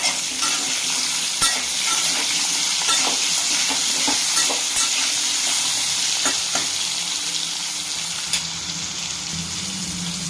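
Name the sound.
potatoes frying and being stirred in a pan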